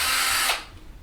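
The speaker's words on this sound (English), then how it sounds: "I always try to remember to pre-drill holes before painting." A power drill whirs briefly while pre-drilling a hole in a thrifted dresser, then cuts off, leaving faint room noise.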